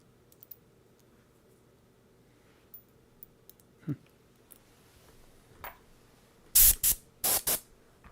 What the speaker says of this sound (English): Airbrush time.